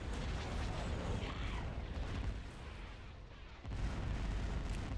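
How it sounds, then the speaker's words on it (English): An ion cannon fires in the strategy game Star Wars: Empire at War, a heavy booming rumble with dense crackling noise that briefly dips in the middle before returning full. "Ion cannon firing."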